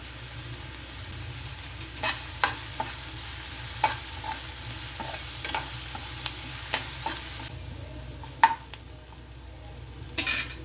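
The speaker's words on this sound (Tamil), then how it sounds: "இது வதங்கும் போதே இது கூட கொஞ்சம் கருவேப்பிலை தழை சேர்த்துக்கலாம்." Onions sautéing with curry leaves in a pan for a mushroom masala gravy, a steady close sizzle with scattered sharp clicks and scrapes of a stirring spoon.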